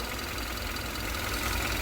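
The engine of a Hyundai Avante MD with 70,000 km on it idles quietly and evenly throughout, a soft, steady hum without voices.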